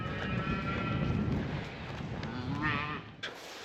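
Cattle and calves on a Polish farm lowing, one drawn-out moo rising and falling over a low rumble of the herd moving nearby, fairly faint and close.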